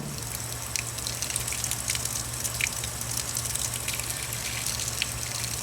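Water running from a garden hose outdoors, a steady rushing splash with small drips, constant and close.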